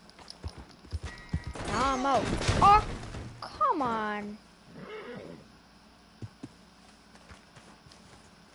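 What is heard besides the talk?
horse hooves and neighing in the video game Red Dead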